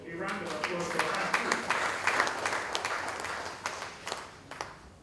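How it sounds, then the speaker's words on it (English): Audience applause at a ministry press briefing, scattered individual claps standing out over talking voices and slowly thinning as it goes on. "A round of applause for her."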